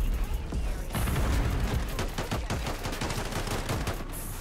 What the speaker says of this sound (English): I'm just gonna go around and throw these decoy grenades.